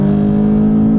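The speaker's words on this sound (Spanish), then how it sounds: "yo del lado izquierdo pues reduzco el cambio, acelero" A Volkswagen Jetta GLI engine in Sport mode holds a loud, steady drone through a paddle-shift downshift, then cuts off sharply near the end of a short burst.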